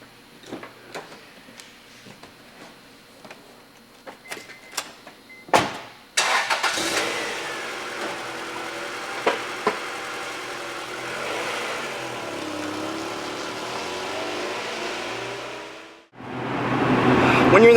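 An Acura Integra Type R fires up after a few clicks and clunks, catching with a sharp burst and then settling into a steady, fairly loud idle that runs on before cutting to another rush of noise.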